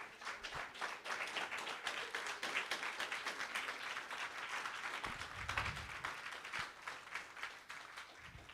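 A church congregation claps together in steady, continuous applause for several seconds, dense and even, with a few low thumps and some faint voices mixed in.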